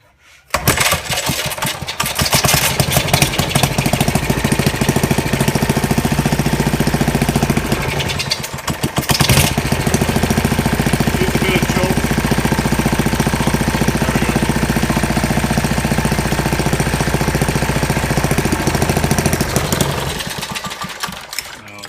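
A 1940 Briggs and Stratton WMB small engine runs steadily and loudly close by for about twenty seconds, with a brief dip and stumble near the eight-second mark before it picks back up, then cuts off near the end.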